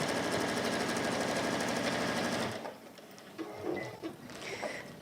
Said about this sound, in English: just sew that bottom and sew up the side so that you're not trying to eyeball